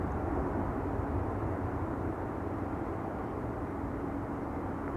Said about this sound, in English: Singapore Airlines rolling on runway 24.